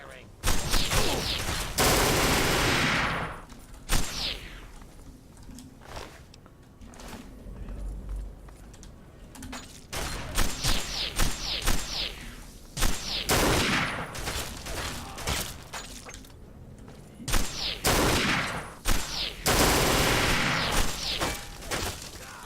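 Gunfire in Fallout 3, in bursts of loud, rapid automatic shots with single cracks between them, repeating throughout with brief lulls.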